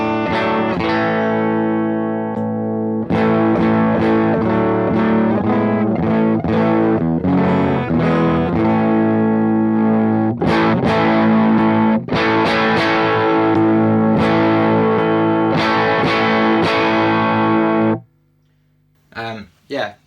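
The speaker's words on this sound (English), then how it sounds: "so my guitar is now direct into this CE-1 crunch" An electric guitar runs straight into a Triungulo Lab CE-1 Ensemble Crunch pedal with no buffer, giving loud, dense, distorted chorus-tinged chords and riffs that play continuously, then stop abruptly near the end before a couple of brief noises.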